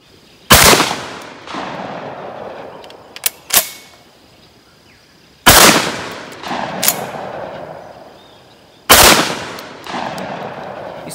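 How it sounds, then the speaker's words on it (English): A Citadel Warthog shotgun fires several loud, sharp blasts outdoors at a shooting range, spaced a few seconds apart, each followed by a ringing decay and small mechanical clacks between shots. "It just got out 5 shells quicker than anything I've ever seen out of a shotgun."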